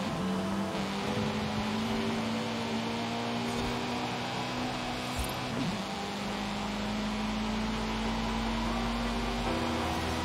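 A race car in Forza Horizon 5 holds a steady high engine drone at speed during a lap, with a brief pitch dip midway as it shifts or corners, loud and continuous.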